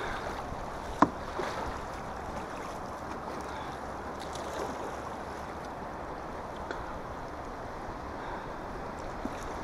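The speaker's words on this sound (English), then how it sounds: "Great, more rapids." Rushing river water surrounds a Pelican Catch 130 HD kayak on rough rapids, a steady broadband wash with wind buffeting the microphone and a few sharp knocks against the hull.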